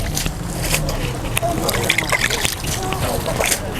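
Water poured into a vermicompost bin, a continuous splashing, trickling wash that runs steadily for a few seconds, near and fairly loud, with people talking faintly underneath.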